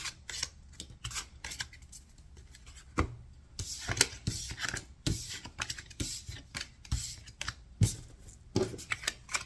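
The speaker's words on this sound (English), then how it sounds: "We'll give it a little bit of a shuffle" A tarot card deck shuffled by hand, crisp riffling and sliding bursts close up in an irregular series of quick strokes with short pauses between them.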